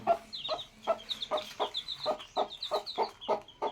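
A hen with four chicks at a village home clucks in a steady, rapid series of short pulses, close by, while higher chick peeps twitter over the top.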